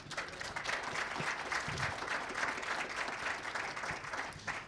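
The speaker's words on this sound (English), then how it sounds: "a round of applause for our panelists" Quiet, steady applause from an audience welcoming panelists at a discussion event, a soft, even patter of many hands heard from some distance, continuing throughout with no talk over it.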